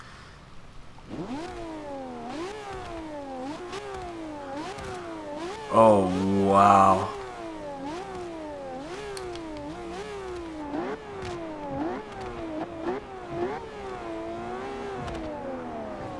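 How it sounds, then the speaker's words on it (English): A 2013 Ferrari LaFerrari V12 engine in the video game Forza Horizon 2 climbs and drops through repeated gear changes in a sawtooth pattern, loud and sustained, with a brief burst of louder noise and a short spoken exclamation. "let's go ahead and just see what that V12 sounds like"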